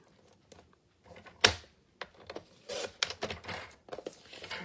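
Card stock is cut down for a handmade bow card, giving a few close, dry scraping slices and rustling paper bursts with short pauses between them and no talk.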